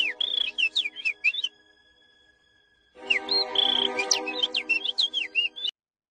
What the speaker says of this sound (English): Oh my God, is a bird.